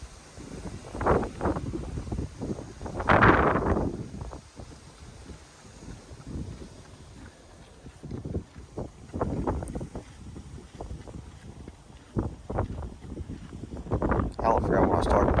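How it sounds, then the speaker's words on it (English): Outdoor wind gusts rumble and buffet the microphone in uneven surges, loud and close, while a person talks at times over the blustery noise at a horse setting. "The wind's blowing right now."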